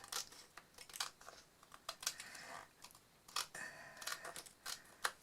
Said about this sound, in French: ce que je fais, c'est que je viens découper